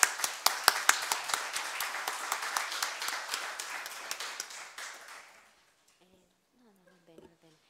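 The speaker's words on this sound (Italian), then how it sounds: "Un grande applauso." Audience applause for a young graduate at an academic event, a brisk round of distinct claps that gradually fades and stops, followed by faint talk.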